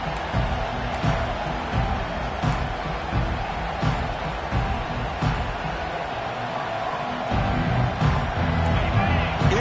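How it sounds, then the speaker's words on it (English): Football stadium crowd at an NCAA game against Alabama, a dense, continuous roar of cheering voices that swells and holds steady throughout, with occasional sharper shouts rising out of the din. "It's early, but this crowd is fired up. Listen to this noise here."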